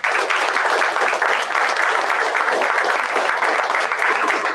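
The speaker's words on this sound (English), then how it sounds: "Can we all start with a big round of applause for all the performers?" An audience at a solo graduation performance showcase gives loud, continuous applause for the performers, a thick, even roar of clapping hands lasting several seconds.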